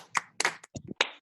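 A small group of students claps briefly for a classmate after a martial arts demonstration, a few sparse, uneven bursts of hand claps up close.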